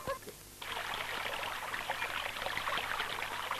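Water streams past both sides of a rock in a steady, close rushing trickle that swells in after a brief quieter moment and then holds evenly with no talk.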